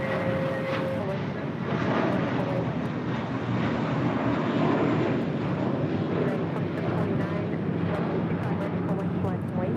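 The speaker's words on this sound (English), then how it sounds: "That is a Neo mentality departing to JFK with JetBlue Airways Flight 523 on a 2-year-old A321 Neo." A two-year-old JetBlue Airbus A321neo departs LAX for JFK with a loud, sustained jet engine roar that stays steady throughout, while people talk over it.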